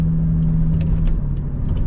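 A Volvo 960 car drives along with a steady low engine drone and road rumble, a constant close-up interior hum with faint ticks and rattles over it, no talk.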